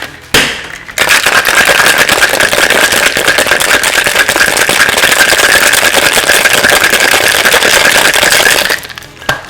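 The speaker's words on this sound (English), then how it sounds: "we're going to shake this in our shaker" A cocktail shaker packed with a large ice cube and crushed ice is shaken hard for an espresso martini, giving a loud, dense, continuous rattling burst lasting about eight seconds, close and alone.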